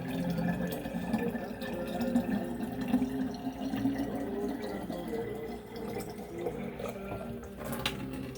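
Cold water poured from a tap into a container for making flavored liquor, a steady close trickle and splash under background kitchen noise throughout.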